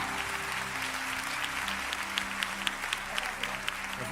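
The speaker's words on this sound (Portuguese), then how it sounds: "Dê a melhor salva de palmas que você puder." A church congregation claps together at a celebration service, steady and fairly even, the crowd's applause moderately distant and filling the room with no clear voices on top.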